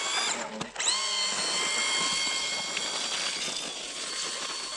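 A buggy engine with worn-out clutches runs with a high, whining mechanical drone and a brief clunk near the start, steady and fairly close with no talk over it.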